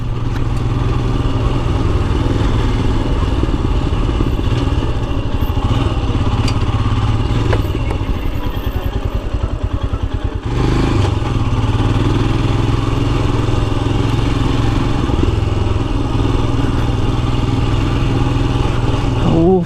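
A Royal Enfield Himalayan Scram 411 motorcycle engine drones steadily while riding off-road, with a low rumble, briefly dipping near the middle before resuming, with a faint voice at times.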